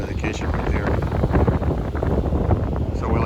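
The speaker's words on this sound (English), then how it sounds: "Definitely windy." Gusty offshore wind on a fishing boat off San Diego buffets the microphone with a constant low roar, and a voice can be heard talking beneath the noise.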